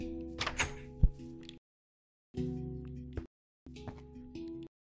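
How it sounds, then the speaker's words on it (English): A spruce door being placed in Minecraft on Xbox One, three short wooden thunking bursts separated by brief silences, with a sharp knock in the first, fairly close and clear. "Screw it, just use a spruce door."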